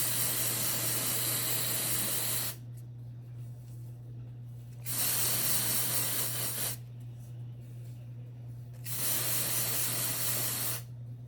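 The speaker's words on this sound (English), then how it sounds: "I'm gonna use dry shampoo" Dry shampoo is sprayed onto hair in close, loud hissing bursts, three long sprays of about two seconds each with short pauses between. A steady low hum runs underneath throughout.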